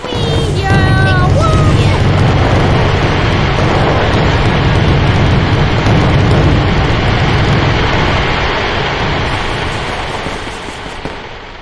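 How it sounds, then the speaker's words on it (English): Fireworks show rumbles and booms in a dense, continuous wash of low thuds and crackle, loud throughout and easing toward the end, with a brief whistling rise at the start. "Well, that was a pretty epic fireworks show."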